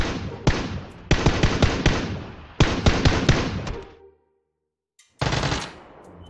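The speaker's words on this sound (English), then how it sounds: "there is some shooting going on over there" Gunfire rattles in the PUBG Mobile video game as loud, close automatic bursts of rapid shots, broken by a short silence before one more burst.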